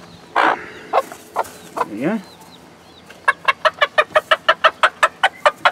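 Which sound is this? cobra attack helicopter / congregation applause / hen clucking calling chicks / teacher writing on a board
hen clucking calling chicks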